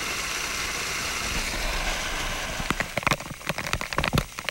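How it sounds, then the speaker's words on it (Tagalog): Steady rain hisses on a surface on a mountain summit, then heavier drops start pattering and splashing unevenly, close by, with a faint low rumble underneath. "Hudyat na bumuhos na ang ulan sa tuktok ng bundok"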